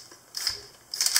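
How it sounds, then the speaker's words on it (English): Kiev 88 medium format camera shutter firing, heard as two short mechanical clacks about half a second apart, the second sharper and closing the release; each is a close, crisp burst of metallic snapping against a quiet room. "then I can fire the shutter."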